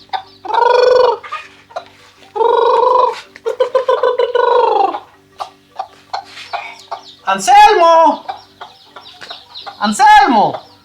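Chickens cluck and squawk close by in irregular bursts, with a person calling out among them.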